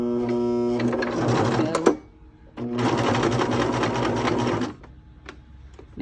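A sewing machine stitches a fabric bowl cozy in two loud, close bursts of rapid mechanical whirring, with a short pause between them and another after the second.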